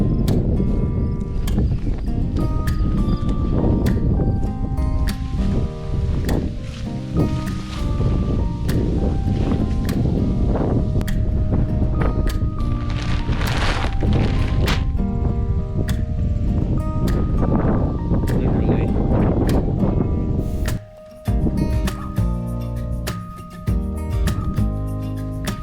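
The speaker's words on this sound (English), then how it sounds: "It's so windy." Strong wind buffeting the microphone outdoors in open North Dakota farmland, a loud continuous rush with gusting surges and rustling throughout, briefly dropping out near the end.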